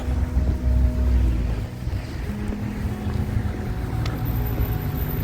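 Wind blowing outdoors on a winter walk over snow, a steady low rushing roar with gusty buffeting against the microphone, loudest at the start and continuing throughout with no talking.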